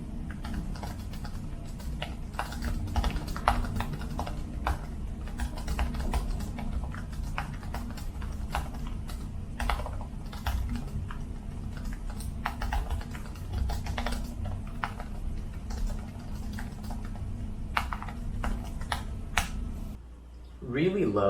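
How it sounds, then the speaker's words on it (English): Fast, continuous typing on a Dell XPS 13 9310 laptop keyboard: a dense, rapid stream of light, crisp key clicks at close range for about twenty seconds, with a brief pause near the end. "I love this type of keyboard because I can type very fast"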